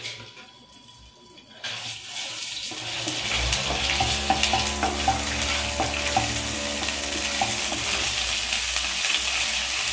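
Ginger garlic paste drops into hot oil already holding cloves and cinnamon, bursting into a loud, steady close sizzle and crackle after a quiet opening, with a few light metallic clinks.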